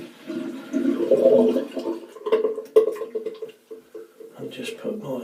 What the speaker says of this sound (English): Now I'm going to drain the water from the sink.